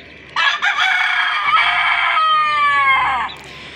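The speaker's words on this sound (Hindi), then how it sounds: "मुसलसल बांग दे रहा है मुसलसल से" A rooster crows loudly and close on a desi poultry farm in Punjab, one long drawn-out cock-a-doodle-doo lasting about three seconds with a faint background hum.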